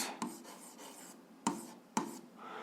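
An algebra equation written by hand on paper, with close, quiet scratching strokes broken by three sharp taps of the pen, and no voices.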